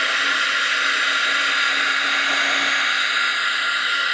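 A hair dryer runs with a steady, loud, unbroken whoosh while drying juicy marker ink on hand-decorated mail art, with no talk over it.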